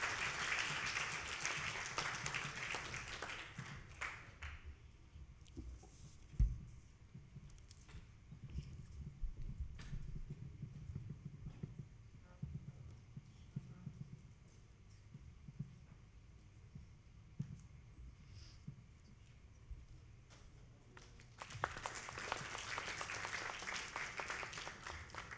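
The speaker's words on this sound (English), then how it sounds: "Let us keep the clap coming." Applause from the audience at a teen conference panel comes in a burst at the start. It falls away to a quiet room with faint clicks and murmurs, then swells again near the end.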